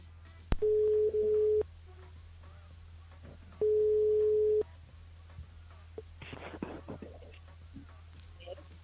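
Telephone line tones as a call connects during a live radio call-in show: two long steady beeps about a second each, separated by a gap, over a low constant hum, followed by faint rustling and clicks.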